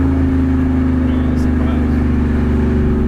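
A 2022 Grabber Blue Metallic vehicle fitted with an MBRP exhaust rumbles loudly and steadily up close, a deep continuous engine drone with no break, while people talk over it.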